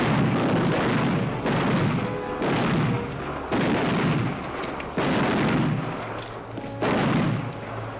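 Repeated gunshots from revolvers in a 1940 western film, six heavy booming blasts spaced roughly a second apart, each with a long echoing tail, loud and close.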